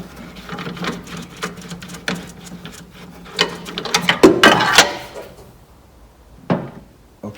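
Metal parts clatter and knock as the cradle is lifted off an Ideal 5560 paper guillotine during a blade change, a string of close, uneven taps and clunks that trail off into quiet.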